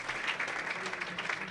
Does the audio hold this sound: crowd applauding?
yes